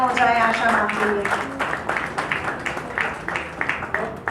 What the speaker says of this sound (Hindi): प्लीज एक बार जोरदार तालियां हो जाए आशा मैम के लिए।